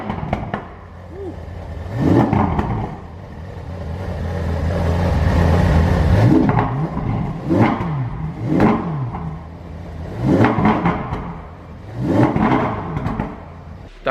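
A high-revving Ferrari 458 Spider engine fires up and is blipped repeatedly, several loud rising revs separated by brief drops back to idle, close by.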